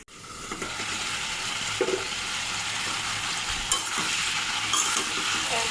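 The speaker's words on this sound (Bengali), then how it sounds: "এবার ঢাকনা দিয়ে ঢেকে ভালো করে এটা কষিয়ে নেব" Turnip curry sizzles steadily in a pan while being stirred, a continuous bright frying hiss broken by a few scraping knocks of the spoon against the pan.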